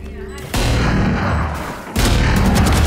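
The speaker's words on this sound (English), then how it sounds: "this guy's just shooting" Loud, sustained gunfire from a first-person shooter game erupts in close, dense bursts, with a brief break before the shooting resumes.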